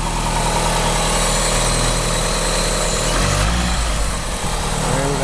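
Engine of an all-wheel-drive Eagle Talon running steadily, loud and close with a constant droning rumble, rising briefly as the throttle is blipped midway through.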